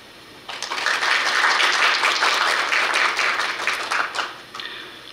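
At a graduate school entrance and dean's inauguration ceremony, the audience welcoming an introduced guest breaks into applause that starts abruptly after a brief quiet, swells, holds for several seconds, then tapers with scattered final claps.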